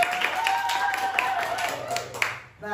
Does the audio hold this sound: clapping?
yes